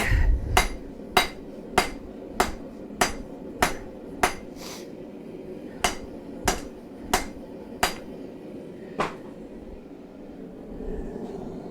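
A hammer strikes steel on an anvil while forging a railroad spike knife, about fourteen sharp ringing blows at a steady rhythm that gradually slows and spaces out, then stops before the end, with no talk.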